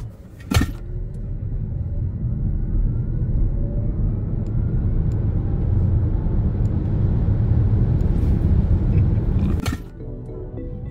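A BYD Atto 3 front-wheel-drive electric car launches at full acceleration, a loud, steady road rumble and tire roar that builds for several seconds between two sharp thumps.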